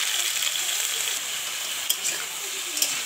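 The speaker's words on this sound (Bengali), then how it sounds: "তো কোলা আলুগুলোকে দিয়ে দিলাম" Raw green banana pieces fry in oil in a wok with a steady close sizzling hiss, broken by two brief clicks of utensil contact.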